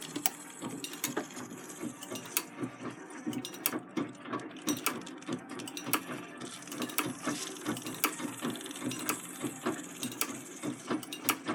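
A treadle sewing machine runs with its bobbin winder, giving a continuous mechanical whir with rhythmic ratcheting clicks and clacks from the gears and pedal, close and steady throughout.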